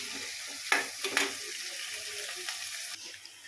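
Onion frying in oil over a high gas flame for a spicy ridge gourd vegetable dish: a steady, close hiss of sizzling with a few sharp stirring scrapes early on. The sizzle eases slightly near the end, and no one speaks.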